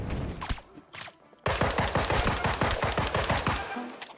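A guard fires at the player in the video game Deceive Inc. A few separate shots come first, then a rapid, loud, evenly spaced burst of automatic fire runs for about three seconds.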